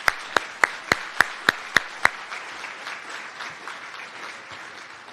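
Applause for residency graduates at a medical graduation ceremony: a few loud, evenly spaced claps up close over a wash of softer audience clapping that carries on steadily after the near claps stop.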